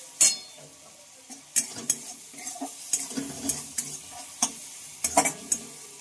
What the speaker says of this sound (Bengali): টমেটোটাকে হালকা একটু নেড়ে চেড়ে নেবো।